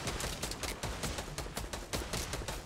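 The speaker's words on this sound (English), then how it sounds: "I'm getting shot at." Fortnite gunfire, rapid repeated shots in a steady stream of sharp cracks, loud and close with no talking.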